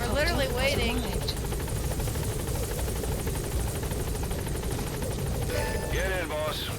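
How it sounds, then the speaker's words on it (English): A support helicopter in Metal Gear Solid V arrives at a landing zone with loud, close rotor thrum and engine whine that hold steady throughout, while voices speak over the noise. "Support helicopter"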